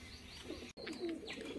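A pair of High Flying Madras pigeons coos softly at close range in a couple of low, brief calls against a quiet background, with no talking.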